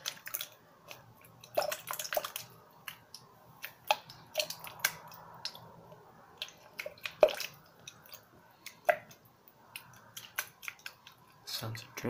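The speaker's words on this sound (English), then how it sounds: "Sounds of drinking water." Quiet sips and gulps of water, scattered over several seconds with soft clicks and pauses between them, close up.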